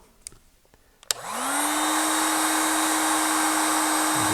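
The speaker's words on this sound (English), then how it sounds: "Get the old heat gun." A heat gun warming the wiring harness of a 1987 Olds 442 clicks on after a few faint handling knocks, then settles into a loud, steady blowing whine that holds without a break.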